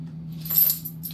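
A small bunch of keys jangles close by in a TV hospital comedy scene, one short metallic rattle over a low steady hum, with no speech.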